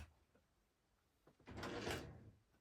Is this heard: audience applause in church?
no